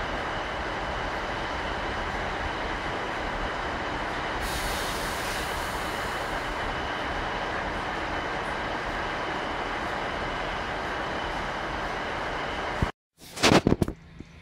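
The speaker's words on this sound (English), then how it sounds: "This is the train that brought me here. It's going now." A passenger train pulls away from a station at Thornbury Abbeywood near Bristol, a loud steady rumble of wheels and engine filling the scene before cutting off abruptly, followed by a brief burst of noise.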